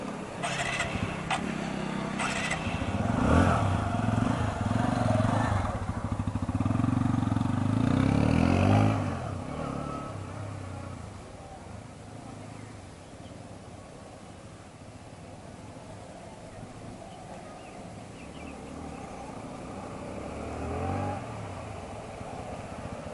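A TVS Apache RTR 160 motorcycle engine revs and drones nearby, loud in the first several seconds, then settles into a steadier hum as the bike moves on across a field.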